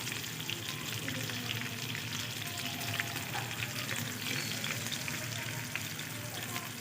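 Pabda fish frying in a hot pan, stirred with turmeric powder: a steady, dense sizzle runs throughout, close and even, with faint scraping from the stirring and no talk.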